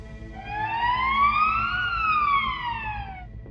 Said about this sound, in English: We hear the sirens.